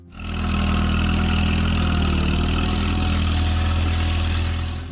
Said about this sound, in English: Please see the next tractor. Minneapolis-Moline M670 Super,